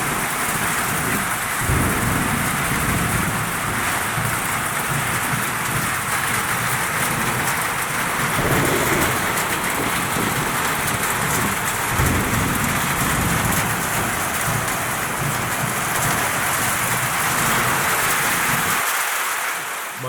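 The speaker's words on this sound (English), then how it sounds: "we encountered a very serious rainstorm" A very heavy rainstorm pours down steadily with rolling thunder throughout, loud and close, the downpour roaring on without pause for the whole stretch.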